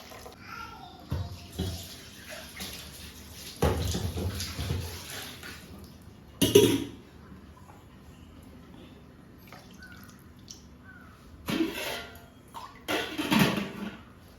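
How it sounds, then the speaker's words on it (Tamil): Tamarind water poured into a pan of sautéed onions and tomatoes for a Tamil curry, with intermittent close splashes and trickles separated by quiet pauses, no talking. "கரைச்சி வச்சுருக்க புளி தண்ணி சேர்த்துக்கலாம்."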